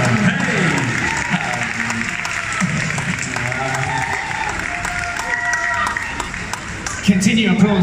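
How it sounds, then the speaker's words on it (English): Audience applause at a fan convention panel in Paris for a TV series guest, continuous crowd clapping with light cheering underneath someone talking over a microphone nearly the whole time. "Continue applause."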